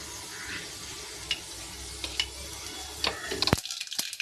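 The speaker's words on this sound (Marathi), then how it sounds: "बघा तेलामध्ये मी राई टाकली आहे भरपूर" Mustard seeds dropped into plenty of hot oil for kadhi fizz with a soft, steady sizzle, punctuated by sharp scattered pops and crackles that grow busier toward the end.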